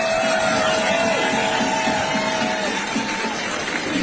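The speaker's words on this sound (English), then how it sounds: "Give her a warm round of applause." A large outdoor crowd at a protest rally for the mayor roars and applauds in a continuous dense wash, with scattered whoops and a long whistle-like tone running through it.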